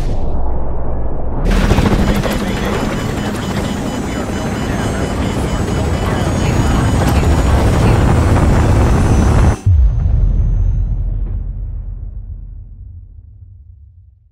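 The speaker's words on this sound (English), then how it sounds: "Incoming missile. Hang on!" An incoming missile explodes in Call of Duty: Modern Warfare Remastered: a loud, sustained roar of blast and rumble fills the scene, cuts off abruptly, then a deep low rumble lingers and slowly fades.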